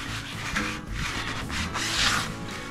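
Close, steady rubbing and wiping on a trailer wheel bearing spindle, a soft continuous scrubbing with slight swells and no talk.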